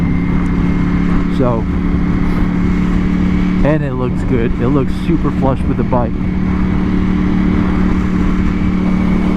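A 2021 Ducati Panigale V4S on its stock exhaust holds a steady, loud engine drone throughout, with sharp rising rev sweeps near the middle, heard beneath someone talking close to the microphone.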